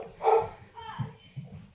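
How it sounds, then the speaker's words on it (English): Dogs barking in a home with children, a few sharp barks and yips near the start and middle, somewhat distant and mixed with a person talking over them. "My dogs are going ballistic, but we're going to push through"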